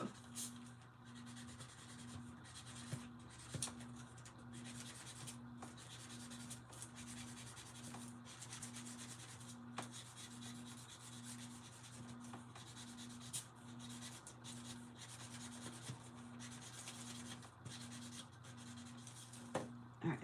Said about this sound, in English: And I am going to sand this down too